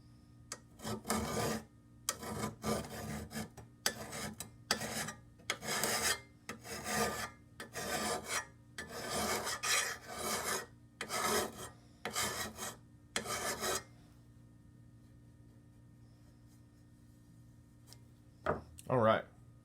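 A hand file rasps along the edge of a steel lawn mower blade in about a dozen steady, loud back-and-forth strokes, each a short scrape with brief pauses between, stopping near the end and followed by a couple of faint final scrapes.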